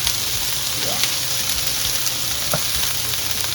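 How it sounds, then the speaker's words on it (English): Vegetables sizzling in a frying pan for a vegetable lasagna, a steady loud crackle with occasional scrapes of stirring close by. "why don't you keep on stirring while I work on the cheese?"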